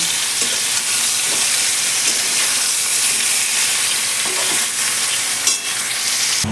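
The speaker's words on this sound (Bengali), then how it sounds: "আর আমগুলো সব ফাঁকা তেলে ভেজেছি" Mangoes frying in hot oil in a home kitchen pan, giving a steady, loud, continuous sizzle with bursts of crackle and occasional stirring scrapes, no voices.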